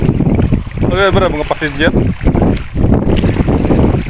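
Strong sea wind buffets the microphone in a steady roar during shore fishing in Abu Dhabi, with a voice speaking briefly over it.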